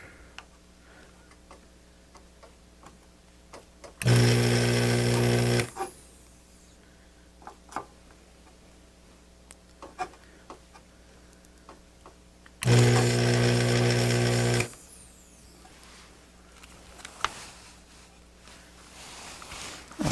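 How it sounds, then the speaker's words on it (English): A desoldering tool sucks old solder off the circuit board of an Electrohome G08 vector monitor, giving two loud, steady hissing bursts of about two seconds each, well apart, over a quiet workbench background. "I'm going to go ahead and suck the solder off of it and start fresh."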